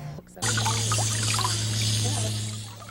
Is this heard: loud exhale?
no